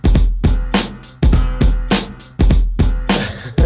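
A piano loop from a hip-hop beat plays with drums and a layered 808 kick, giving heavy, booming low hits in a steady looping rhythm, loud and alone.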